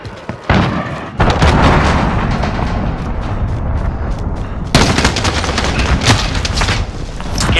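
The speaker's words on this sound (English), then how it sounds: "Enemy cruise missile." Cruise missile strike explosions in Call of Duty: Modern Warfare on the Grazna Raid map, loud rumbling blasts mixed with gunfire, a fresh heavy impact hitting midway through.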